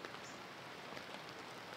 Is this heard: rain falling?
yes